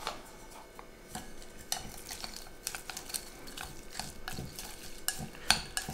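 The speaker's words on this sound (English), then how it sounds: "I'm mixing the shrimp with a pinch of white pepper and a little pinch of salt" Raw shrimp being stirred and mixed in a bowl with a pinch of white pepper and salt, giving steady wet squelches and light clinks of a utensil against the dish, close up and without talk.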